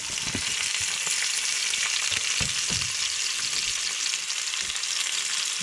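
Onions and potatoes frying in Bertolli extra virgin olive oil in a pan, a steady loud hiss and crackle with occasional stirring scrapes and knocks, no voices.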